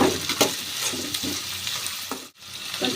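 Ginger paste mixture fries in a pan with tomatoes and onions while a spoon stirs it, a close bubbling sizzle punctuated by several scraping strokes and a brief dip near the end, with no talking.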